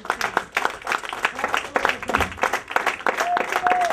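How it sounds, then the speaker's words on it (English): Applause from a church congregation during an evangelistic service, hands clapping steadily and densely for several seconds with voices and cheering mixed in. "Go ahead and give the Lord a hand for applause."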